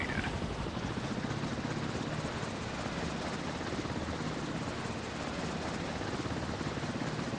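A helicopter taking off from a warship in a mobile naval combat game, its steady loud rotor thrum and engine whine running continuously throughout with no talk.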